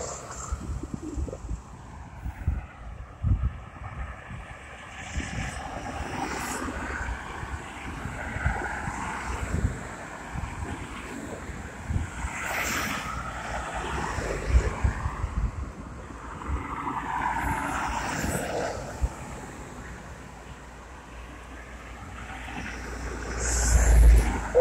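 Wind gusts buffet the microphone at Brandon's Beach, Barbados, with ocean surf washing beneath in uneven surges, loud and rough throughout with no voices.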